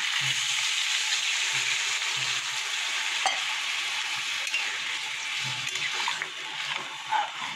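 Hot water poured from a mug onto vegetables fried with salt and turmeric sets off a loud continuous sizzle and hiss in the pan, with faint stirring clinks underneath.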